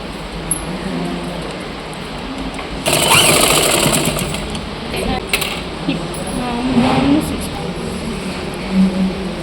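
A sewing machine stitches a collar Panjabi dress, a continuous mechanical whir that grows louder in a burst partway through. A person talks over it.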